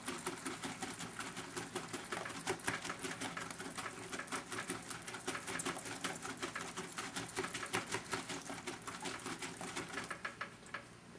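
Skateboard bearings are pumped in a jar of alcohol, giving a fast, steady rattling and clicking that runs without a break for about eleven seconds, close and fairly quiet.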